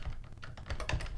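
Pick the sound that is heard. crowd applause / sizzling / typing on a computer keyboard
typing on a computer keyboard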